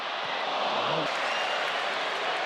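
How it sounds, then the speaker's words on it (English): A stadium crowd at a football match between Arsenal and Villarreal gives a player applause, a dense, broad wash of clapping and crowd noise that stays steady and loud throughout, with a commentator's voice faintly over it. "he got a nice round of applause"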